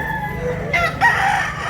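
A rooster on a farm in Consolacion, Cebu, gives one loud, close crow, rising and held briefly, over low background noise with no talk.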